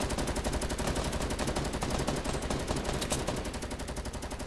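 Rapid, continuous automatic gunfire in Fortnite as a player shoots at supply drops in a 50 v 50 match, a dense, loud, unbroken rattle of shots lasting throughout.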